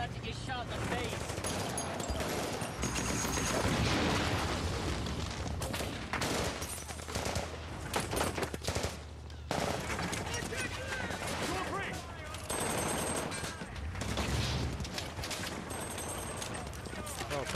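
Heavy gunfire during an ambush scene from the TV series Generation Kill, sustained machine-gun bursts and rapid shots rattling loud and close almost throughout, with shouting voices mixed in and a brief lull midway.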